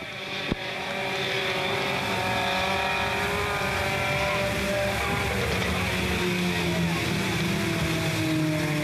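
Front-wheel-drive race cars lapping Smoky Mountain Raceway, a steady loud engine roar with rising and falling pitch as cars pass, plus wind buffeting the microphone throughout.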